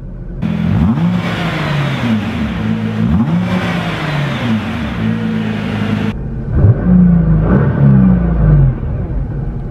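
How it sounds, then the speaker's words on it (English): A 2017 Nissan GT-R engine revved with its exhaust valves closed: several sharp blips rise and fall in pitch, loud and close, then a lower, more muffled rev follows. "I'm gonna give the car a few revs with the valves closed."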